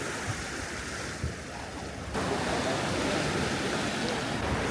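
Ocean surf rolls in at Manly Beach, Sydney, as a steady broad wash of waves mixed with wind. The roar grows fuller partway through and stays without pause.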